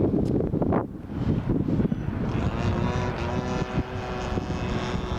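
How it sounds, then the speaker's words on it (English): A radio-controlled scale model airplane takes off down a runway on a windy day, its motor buzzing steadily as it accelerates, partly masked by gusting wind noise on the microphone. "the plane as it goes down the runway"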